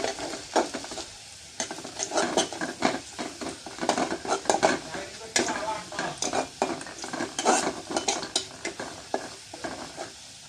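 Ingredients for a potato dal fry in a pan with a soft continuous sizzle, while a utensil repeatedly scrapes and knocks against the pan in uneven bursts of stirring.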